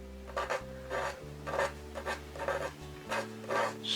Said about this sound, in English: I'm just going to take a craft knife and I'm just going to scrape out